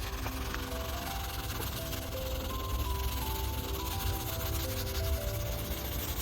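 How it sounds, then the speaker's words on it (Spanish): Sandpaper backed by a sponge rubs steadily over a car headlight lens, a soft continuous scratchy hiss at low volume with no pauses. "me traigo una esponja para ayudarme a lijar todo mejor"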